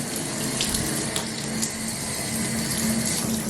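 Water pours steadily from a freestanding bathtub faucet tub filler, a continuous hissing splash that holds even and close throughout, with no voices.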